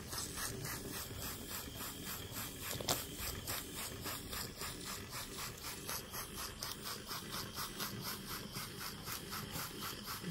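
A model beam steam engine running, its piston and valve gear giving a fast, even chuffing and rubbing rhythm that repeats steadily and close throughout.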